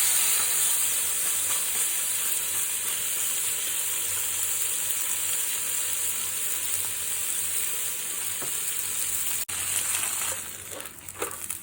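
Okonomiyaki flipped onto a hot griddle, giving a steady, close hiss of frying batter with a dull thump near the end and renewed crackling sizzle afterward, no voices.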